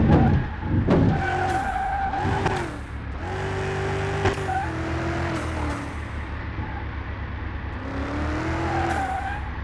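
Tires spin and squeal on a 2,000-horsepower car in Car Mechanic Simulator 2021, a continuous loud skid with rising and falling whine as the engine revs, close and steady throughout.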